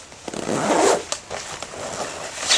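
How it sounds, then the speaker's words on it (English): A zipper on a vintage jacket with a single zip is drawn up in a few short rasping pulls, close and fairly loud, with brief pauses and a final quick zip at the end. "I do prefer it when jackets have double zips, so you can go both ways, but this only has a single zip."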